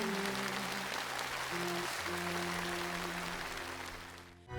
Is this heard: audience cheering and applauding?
yes